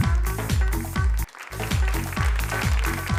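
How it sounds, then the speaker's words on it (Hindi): Applause for a prize winner at an education and welfare trust's prize distribution ceremony: steady, dense clapping from an audience, loud and close, continuing throughout with a brief dip midway. "जोरदार तालियां होनी चाहिए"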